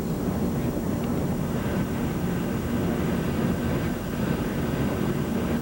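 Steady, dense roar from a Hurricane Hunter aircraft flying into Hurricane Fran in 1996, carried over a radio link as a constant broadband drone with rumbling low end and no clear voice on top.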